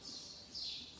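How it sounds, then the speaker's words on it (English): Birds chirp loudly in a continuous high twittering chorus, with a brief swell of louder calls midway through the short stretch, no talking over it. "You're saying that the birds are really loud."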